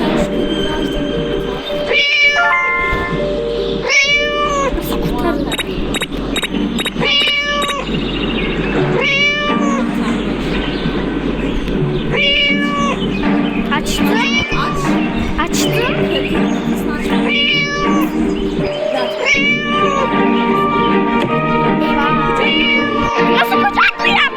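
Repeated cat meows from a video game, a string of clear rising-falling calls spaced every couple of seconds over a steady hum of game music and background sound.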